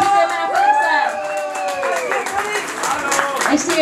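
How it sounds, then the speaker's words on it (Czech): Birthday-party applause for a musician on his 79th, on Střelecký ostrov, with clapping and crowd noise mixed under lively, overlapping voices and cheers, steady and close for the whole stretch. "Tady si tenhle potlesk je jenom pro tebe."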